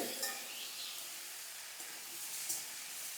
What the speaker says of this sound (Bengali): দেখো এরকমভাবে এটাকে নাড়ব